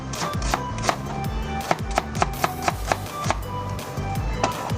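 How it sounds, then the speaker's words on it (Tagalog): A knife slices onions on a board in a steady run of crisp, evenly spaced cuts, close and clear with no voices. "Slice lang po ito. Hindi natin siya i-chop-chop."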